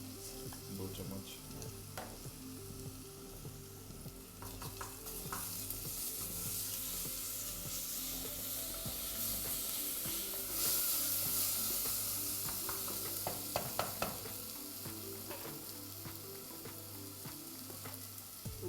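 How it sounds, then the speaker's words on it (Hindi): Onion browning in oil with ginger-garlic paste for chicken chops, sizzling steadily and loudly up close while a spoon stirs with intermittent scrapes and clinks, no talking. "फ्राई हो रहा है प्याज और गोल्डन ब्राउन होना है"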